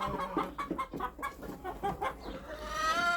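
Several chickens cluck and murmur close by in short, overlapping calls while eating feed mash, with a brief higher squawk toward the end.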